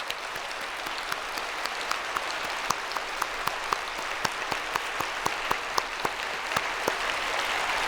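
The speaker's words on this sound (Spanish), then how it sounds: "cuando aplaudamos, hagámoslo con gran fuerza" A church congregation applauds with strong, steady clapping, a dense wash of many hands broken by sharper individual claps, sustained at even loudness throughout with no talk.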